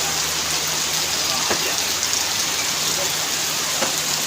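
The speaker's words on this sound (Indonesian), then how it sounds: "saat ini hujan deras." Heavy rain pouring down in a dense, steady hiss, with a few louder drips and patters close by.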